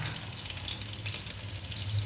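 Stuffed brinjals sizzle softly in a pan as they are turned, giving a faint, continuous crackle with small bursts close by.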